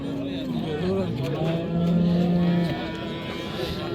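Cattle moo repeatedly at the Margilan Kombinat livestock market, long low calls rising over a busy background murmur with some voices nearby.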